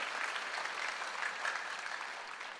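Church congregation applauding during an online Ascension service, a steady, fairly distant wash of many hands clapping that lasts throughout.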